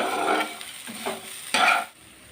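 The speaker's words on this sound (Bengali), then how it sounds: "এবার আমি নারকেল আর গুড় খুব ভালো করে মিশিয়ে নেব" Grated coconut and date palm jaggery being mixed in a pan for a Bengali sujir malai patishapta filling: a few close, scraping stirring strokes with soft sticky rustles, no talking.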